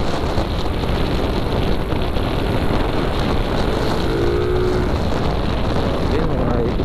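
A Mio Sporty with a V8 V3 silent killer exhaust pipe runs with the throttle held, giving a continuous, loud, close engine drone mixed with rushing wind.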